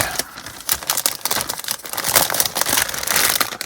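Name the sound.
opening a resealable plastic bag of model kit parts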